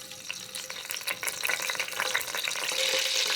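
Dry whole spices, bay leaves, cardamom, cloves, black peppercorns and a cinnamon stick, sizzle in hot oil in a pan. A steady, close frying hiss builds gradually and is heard alone.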